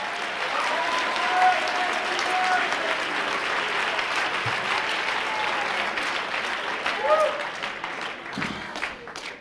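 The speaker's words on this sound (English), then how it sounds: "you ought to clap your hands" A church congregation claps their hands in sustained, full applause lasting several seconds, with occasional shouts and voices rising over it.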